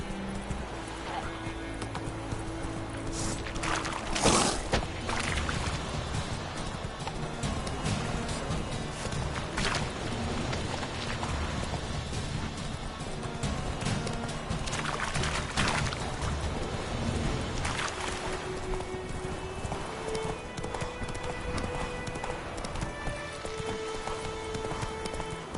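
Roach the horse gallops in The Witcher 3, with steady, rapid hoofbeats pounding on through the whole stretch amid other game sounds.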